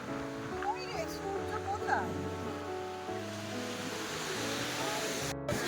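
Ocean waves wash steadily onto an empty seashore at Puri around sunrise, a continuous surf roar with light wind under nearby talking voices.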